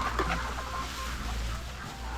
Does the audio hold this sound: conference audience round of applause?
no